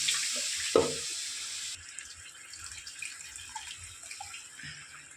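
Water pours from a tap into a pot of sundakkai tamarind kuzhambu curry, a steady hiss of running water that stops partway, followed by faint clinks and small kitchen sounds.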